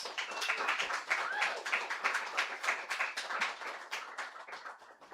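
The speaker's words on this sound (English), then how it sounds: "give her a round of applause" Audience at a literary anniversary celebration clapping for a reader, a brisk round of many hands close by, steady then tapering off toward the end, with a few voices mixed in.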